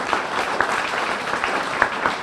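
Audience applause at a local history book launch, a steady roomful of clapping hands, moderately loud and continuous with a few sharper claps standing out.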